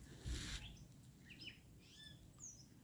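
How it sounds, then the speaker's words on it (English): Faint, scattered bird chirps and short whistled calls in a nature preserve near the Saugerties lighthouse, distant and sparse over a steady outdoor background hiss. "The bird song is really amazing through here"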